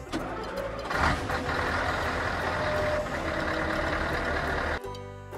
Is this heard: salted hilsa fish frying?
no